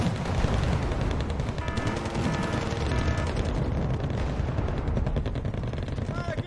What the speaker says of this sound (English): BVPs trying to fire at everything at the same time here